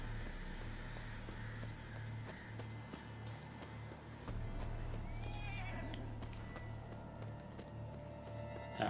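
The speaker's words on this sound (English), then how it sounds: "That horse just took off." A horse in The Witcher 3 game bolts off, heard as a whinny and clip-clopping hooves over low ambient hum, fairly faint and continuous, with no speech.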